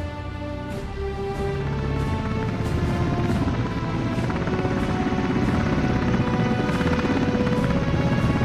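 An AH-64 Apache gunship helicopter in a Company of Heroes WW3 mod war game gives a steady, rhythmic rotor thump throughout, with a crash near the start.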